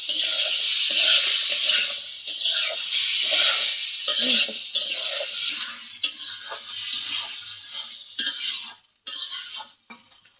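Taro corms hit hot oil and spice paste in a pan for a rohu fish curry, giving a loud steady sizzle with stirring scrapes and a few brief pauses near the end.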